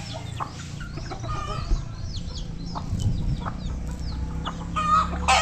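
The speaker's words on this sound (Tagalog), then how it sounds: "Yan na po ating mga alagang manok" Pet chickens on a backyard farm, several hens clucking and calling close by in irregular bursts, with a short rooster-like call mixed in over faint background noise.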